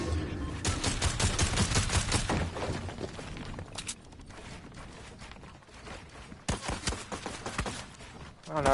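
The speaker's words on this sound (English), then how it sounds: "now I got somebody else shooting at me" Rapid bursts of gunfire in Fortnite, dense volleys at the start and again near the end, loud and close, with quieter scattered shots in between.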